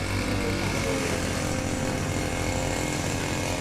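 Grass cutter trimming thick weeds and overgrown plants in a yard, a loud continuous buzzing motor whine filling the scene close by.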